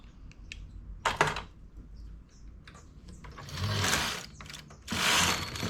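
A domestic knitting machine's carriage sliding across the needle bed while a knitted buttonhole finish is worked, giving mechanical clicks and then two longer raspy sweeps, one left and one right, close and fairly loud.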